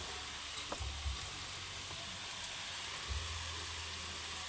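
Leaves and onions fry in a pan with a soft, steady hiss, joined by a few low thumps and light clinks from the pan; fairly quiet with no talking.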